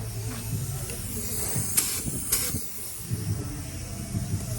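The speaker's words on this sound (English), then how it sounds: "Got the edge primer sprayed on there." Edge primer sprays onto a Magnum 500 wheel in short hissing bursts, two sharper spurts standing out over a soft background hiss.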